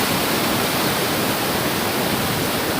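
A swollen mountain river in Uttarakhand rushes past, a loud, dense and unbroken roar of water that fills the whole clip.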